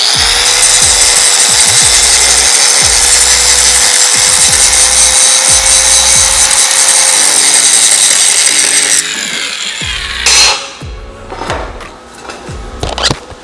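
An angle grinder runs loud and close, feathering down weld tacks on a steel coupon with a continuous whining grind. It winds down near the end, followed by a few metallic clanks.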